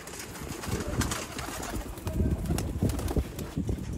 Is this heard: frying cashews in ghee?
no